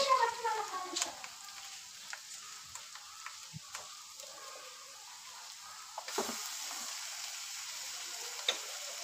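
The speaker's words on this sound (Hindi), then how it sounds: "तो अब हम इसके अंदर मैरिनेशन किया हुआ चिकन अब ऐड करेंगे" Marinated chicken sizzles in a pan of frying onions for white chicken korma, a steady low hiss of frying with faint ticks and stirring clicks, growing a bit louder partway through.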